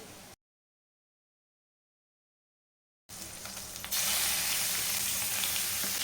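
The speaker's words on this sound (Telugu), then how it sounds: "ఇప్పుడు నీట్గా వాష్ చేసుకున్న చికెన్ అయితే వేసే" Washed chicken hits a pan of fried garlic and sets off a loud, steady sizzle and hiss that swells after a brief quiet gap and continues close by, with no talk.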